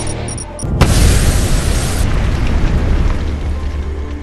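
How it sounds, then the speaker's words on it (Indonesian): Bombs detonate in a hotel in the film Sniper: Special Ops: a sudden loud boom bursts out after a brief quieter lead-in, then a dense, rumbling roar of blast and debris carries on at high volume. "memasang beberapa bom dan meledakkan dirinya bersama dengan Potter di hotel tersebut"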